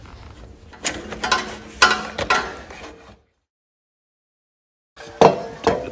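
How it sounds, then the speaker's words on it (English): A hand ratchet clicks in quick bursts while removing four bolts from a Briggs & Stratton 22 hp Intek engine on a John Deere, close and loud, with a silent pause before more ratcheting. "I'm gonna take these four bolts off here."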